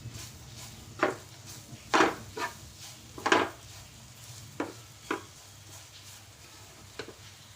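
A spoon clinks and scrapes through crushed green gram being mixed into a spice mixture in a pan for kachori filling, with scattered sharp metallic taps at an uneven pace, quiet and close.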